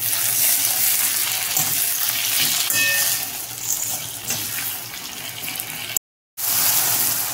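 Chopped tomatoes tipped into a pan of golden fried onions and spices, a steady close sizzle and hiss that runs throughout with a brief stir, then a short cutout before the frying resumes.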